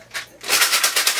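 A homemade shaker filled with glass beads in a container rattles in quick rhythmic shakes, a soft hiss at first, then a louder gritty swish pulsing several times, close up.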